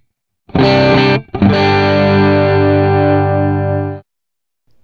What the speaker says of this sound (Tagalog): This is my clean sound na edge of breakup yung tone.